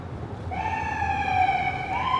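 An ambulance siren rises and holds a steady wailing tone in a crowded outdoor area, loud and fairly close, heard alone without talk over it.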